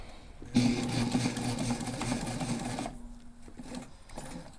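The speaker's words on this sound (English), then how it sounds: "I'm going to backstitch that entire row." A sewing machine backstitches a seam on a backpack, starting with a sudden loud mechanical whirr and rapid needle chatter for about two seconds, then slowing to a quieter hum before it stops.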